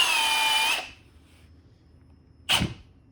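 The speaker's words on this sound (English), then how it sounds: "I'm just going to grab the chuck here like I'm tightening up, and then I'll pull down on the trigger" A Milwaukee Fuel hammer drill (3697-22 kit) whirs loudly and steadily for under a second, then cuts out abruptly as its AutoStop engages, leaving near silence broken by one short, sharp burst.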